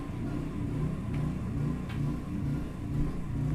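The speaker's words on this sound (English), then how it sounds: "It sounds like a breathy generator." Low, steady rumbling drone of a generator running outdoors, faint and distant, with a breathy wavering hum and no voices.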